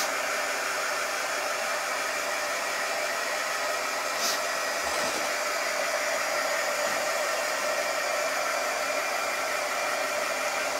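A hair dryer blows on a painted pumpkin cutout to dry the paint, giving a loud, steady, unbroken whoosh of air that stays constant throughout.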